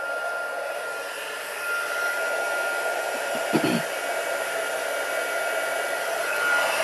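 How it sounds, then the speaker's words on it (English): A heat tool blows a steady, close airy roar over etched foil lying on a cheese board, holding level throughout, with a brief faint knock partway through. "time for the trusty cheese board and my heat tool"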